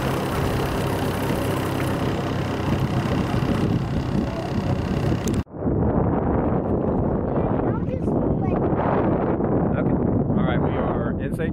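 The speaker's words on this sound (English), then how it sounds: "It's a little windy, so you may be catching the wind there" Wind buffets the microphone on a boat out in a bay during a scalloping trip, a loud constant rushing with a brief dropout midway, mixed with engine and water noise.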